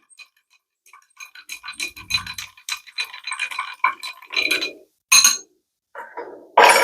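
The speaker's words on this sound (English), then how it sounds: "Give this a good stir." Ice cubes clinking and rattling in a glass as a pumpkin spice old fashioned cocktail is stirred, a quick, close, bright jingle of rapid taps, ending in a few louder clinks.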